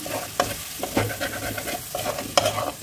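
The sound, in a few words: frying Kashmiri chili, coriander and cumin spice masala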